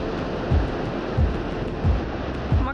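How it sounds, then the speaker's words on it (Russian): Pacific Ocean waves breaking on the shore at Half Moon Bay, rhythmic low thumps of surf roughly every seven-tenths of a second over a constant windy wash. "Посмотрите, какие сегодня волны, дух захватывает."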